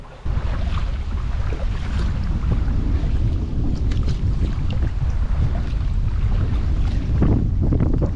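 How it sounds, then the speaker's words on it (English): Strong wind buffets the microphone during a river paddling trip on the Little River in Connecticut, a loud continuous rumbling roar with gusts throughout. "Here comes the wind again."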